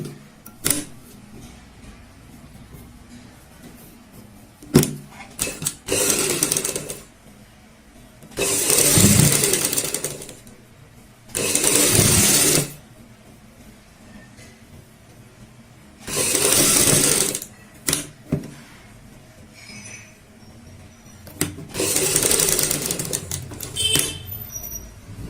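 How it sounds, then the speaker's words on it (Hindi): A sewing machine stitches fabric for a halter neck design in several loud bursts of a few seconds each, separated by quiet pauses and small handling clicks. "अब मैं आपको स्टिचिंग दिखाता हूँ"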